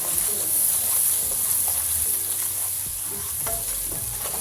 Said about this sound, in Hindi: इसको भी हम कर लेते हैं अच्छे से फ्राई।